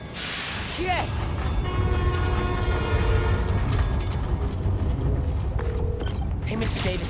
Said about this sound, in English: Come on, trusty New York subway.